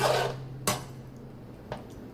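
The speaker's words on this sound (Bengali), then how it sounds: "এবার ঢাকাটা তুলে একটু নেড়ে দেবো মাছটা" A lid lifted off a pot and fish stirred in the pan during home cooking: an opening clatter of metal, then two sharp knocks spaced apart over a low steady hum, close and moderately loud with no talk.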